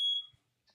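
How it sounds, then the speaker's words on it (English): A household smoke detector gives one short, high-pitched electronic chirp at close range, then the room falls quiet. "Sorry, our smoke detector just went off."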